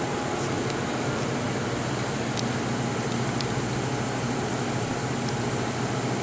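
Mechanical roughing vacuum pump of a Denton DV-502A evaporator running behind the machine, a steady, dense mechanical drone with a constant low hum and broadband whir, unchanging and alone for the whole stretch.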